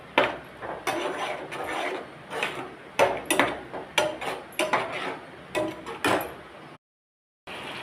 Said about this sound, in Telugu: ఇప్పుడు కాకరకాయలు వేసుకోవాలి. వేసుకొని బాగా కలుపుకోవాలి.